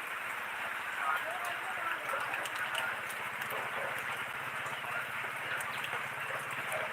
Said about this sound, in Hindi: बारिश रुकने का नाम नहीं ले रहा है